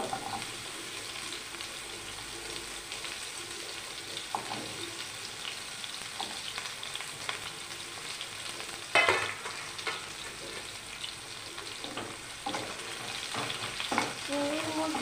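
Bitter gourd frying in a pan, a soft continuous sizzle broken by scattered scraping and stirring clatters, with one louder knock partway through.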